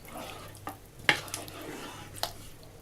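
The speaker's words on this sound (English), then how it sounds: "Make sure your coconut milk's all mixed around." Quiet stirring of coconut milk and spices in a slow-cooked potato and chickpea curry, soft spoon scrapes and a couple of light knocks against the pot over a faint low hum, close and gentle.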